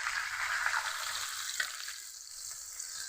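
Chicken bread balls deep-frying in hot oil, a steady close bubbling sizzle that holds throughout at even loudness, with no talk.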